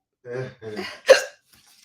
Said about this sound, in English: I got the hiccups from that one.